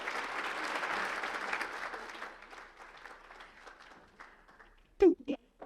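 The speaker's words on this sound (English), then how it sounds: "please, round of applause to all of our ambassadors." Audience at a chamber of commerce awards gala applauds, a dense wash of clapping that gradually thins and fades, followed near the end by a few brief bursts of voices.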